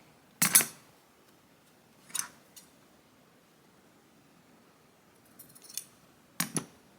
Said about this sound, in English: So that's why I'm just going in and cutting it instead.